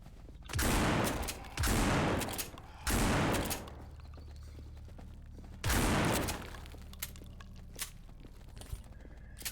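Four heavy shotgun blasts boom out in a zombie prison-escape video game, three in quick succession and a fourth after a pause, each loud with a short tail, over quiet background rumble and a few faint clicks.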